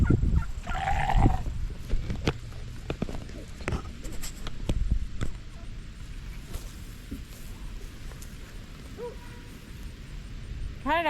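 Delaware broiler chicks or young meat birds make scattered, close chirps and soft calls, mixed with rustling and handling knocks and a brief murmur of voice in the background.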